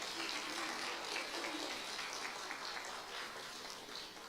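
Soft, steady applause from an audience in an auditorium at a community space event, a dense wash of many hands clapping at a distance, thinning slightly toward the end with no speech.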